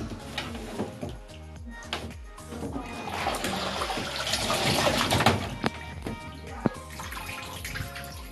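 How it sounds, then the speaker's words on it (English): Dirty yellow-brown water drains from a bathtub in a steady gurgling wash, swelling louder midway, with small clicks and knocks on top and no talk. "that nasty yellow, brown, dirty water is draining"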